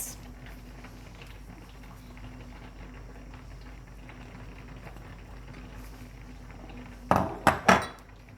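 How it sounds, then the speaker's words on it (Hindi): Diced mango, onion and vegetables dropped into a bowl for mango salsa, heard as a low kitchen hum followed by a few sharp clinks and taps near the end. "यहाँ पे मैंने एक बाउल लिया है, इसमें मैं ये मैंगो डाल रही हूँ।"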